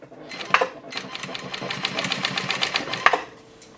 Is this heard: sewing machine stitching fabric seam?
yes